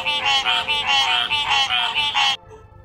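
A frog croaks in a rapid run of about eight loud, raspy pulses, up close, then stops abruptly.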